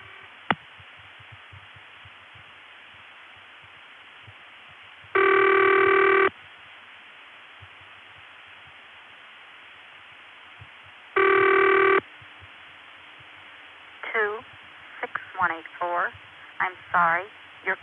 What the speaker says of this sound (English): Being a senderized step, it will dial something to get the recording.